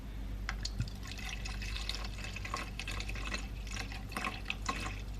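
Liquid being poured into a container while making a no-bake Christmas chocolate tiffin, a soft steady trickle with small drips and splashes, faint and close.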